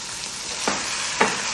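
Chicken breast and sliced onion frying in a hot pan, a steady broad sizzle with two sharp stirring scrapes standing out near and clear.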